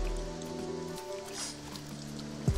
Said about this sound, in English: damn, I'm tired of this rain